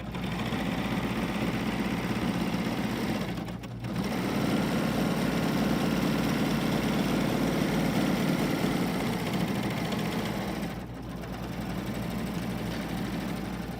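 A sewing machine stitches fabric with a steady, close motorized whir that runs almost continuously, stopping briefly twice before resuming.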